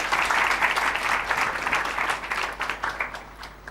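Applause from a devotional gathering's audience, a dense wash of many hands clapping steadily at close range for a few seconds and gradually thinning toward the end, with no voices over it.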